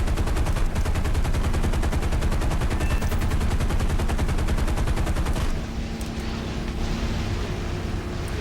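Eight .50 cal machine guns of a P-47D Thunderbolt fighter in War Thunder, firing one continuous, dense, roaring burst for several seconds before cutting to steady engine drone.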